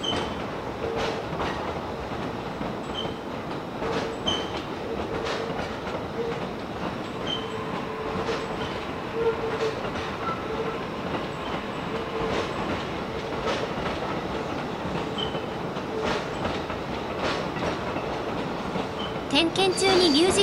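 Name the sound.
first down-line train passing on the rails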